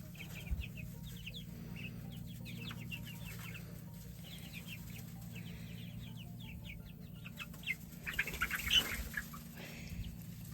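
Chickens cluck softly in the background over a steady low hum, with a brief louder burst of clucking near the end.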